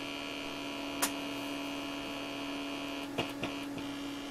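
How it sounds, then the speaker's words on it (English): Steady electrical hum from the audio output of a radar retro-reflector test unit while its display sync mode is switched, a constant low drone broken by a few brief clicks, with no talking. "If I turn the audio up on the radar unit itself, you can actually hear the horizontal sync frequencies."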